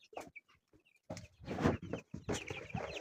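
Young chicks in a pen, clucking and peeping in short close bursts, louder and busier in the second half.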